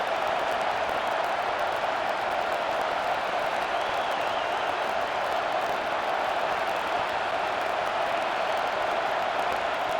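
Stadium crowd in College Football 25 during a California vs Florida State game, a steady, dense roar of many voices held at constant loudness throughout, with no clear peaks.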